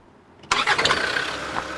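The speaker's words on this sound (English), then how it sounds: "release the clutch, and then brake pedal and restart the engine in gear" A Land Rover engine restarts in gear on a hill: a sharp starter catch followed by the engine firing up and settling into a steady, fairly close idle with no talking.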